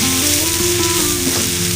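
Masala sizzling in hot oil with onion and tomato while cooking egg masala, a steady loud crackling fry with faint stirring scrapes and no talking.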